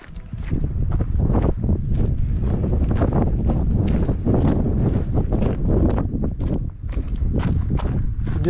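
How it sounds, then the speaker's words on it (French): Strong gusty wind buffets the microphone continuously on a high mountain hike to Mont Ténibre at 3031 m in the Mercantour, with faint footsteps underneath and no talking. "Bien qu'il y ait un peu de vent"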